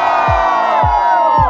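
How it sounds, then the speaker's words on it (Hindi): A large crowd of children shouts and cheers loudly and continuously at a celebrity welcome event in Delhi, close and alone. "एक बार और चिल्लाएंगे"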